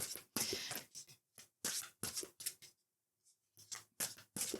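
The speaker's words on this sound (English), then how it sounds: "Just going to give this a few more shuffle." Tarot cards being shuffled, a series of short crisp riffling bursts with brief pauses between them, close and clear with no talk.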